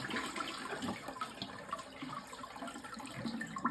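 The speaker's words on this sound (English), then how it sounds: "that it will flush" A toilet flushing with a faulty fill valve that does not refill the tank, a steady low rush of draining water heard alone at low level throughout.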